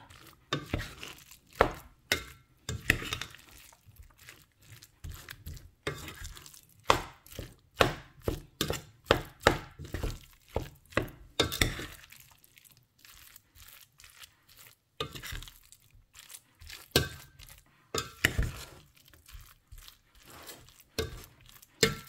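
A lumpiang shanghai filling with carrots is mixed in a bowl, giving repeated wet, squelching and crunching bursts in an irregular rhythm, close and fairly loud, with short pauses between strokes and no talking.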